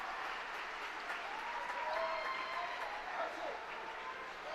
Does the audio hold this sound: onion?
no